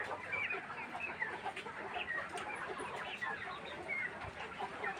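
Farm chickens clucking in a busy, continuous chorus while they eat feed, with many overlapping soft clucks and chirps at moderate distance and no talking.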